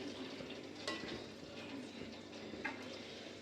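Gulab jamun being lightly stirred in syrup, with soft, faint scraping and a few gentle clinks of a utensil against the pan over a low, steady background hiss.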